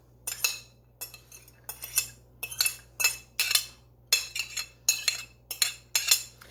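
Utensils clink sharply against a bowl as herbs go into egg salad, about a dozen distinct metallic taps in a fairly regular rhythm, close and clear against a quiet room.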